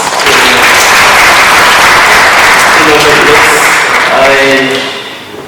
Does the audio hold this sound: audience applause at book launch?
yes